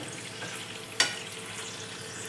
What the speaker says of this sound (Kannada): ಇದು ಎಣ್ಣೆಲ್ಲ ಹೀಗೆ ಒಂದು ಎರಡು ನಿಮಿಷ ಫ್ರೈ ಆಗಬೇಕು